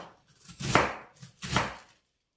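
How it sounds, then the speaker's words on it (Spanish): A knife slices red cabbage into thin strips on a board, two distinct chopping strokes about a second apart, close and crisp, each with a short crunchy rasp, then silence. "Ahora vamos a realizar tiras lo más delgadas posible."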